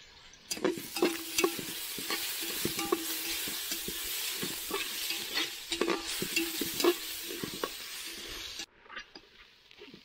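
Chopped onion with ginger frying in a pan over a wood-fired chulha in rural Satara, a steady close sizzle broken by frequent scraping stirs and clacks over about eight seconds, then the sound drops abruptly near the end.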